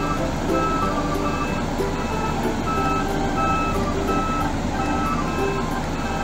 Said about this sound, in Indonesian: Wow, ini adalah mobil penghalus jalan teman-teman.